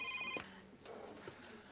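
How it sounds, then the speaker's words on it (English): A mobile phone rings briefly and faintly with a short electronic tone, then falls away into quiet background. "Charity, is that my phone?"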